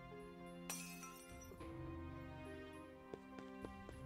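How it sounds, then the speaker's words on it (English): Glass shatters in the Cinderella Phenomenon video game, starting with a sharp crash. Scattered tinkling clinks of falling shards follow against a sustained musical backdrop. "The sound of shattering glass echoes across the plaza."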